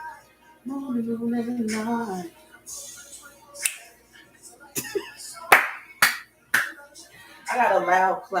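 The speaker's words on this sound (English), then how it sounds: "I got a loud clap too, y'all." Loud hand claps from large hands: several sharp, separate smacks, one after another, between stretches of casual talk.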